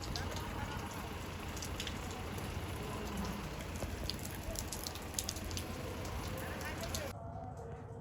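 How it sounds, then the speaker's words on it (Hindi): Heavy rain pours steadily and loudly in a village in Bihar, India, a dense drumming patter throughout that cuts off abruptly near the end. "बहुत तेज़ बारिश हो रही है"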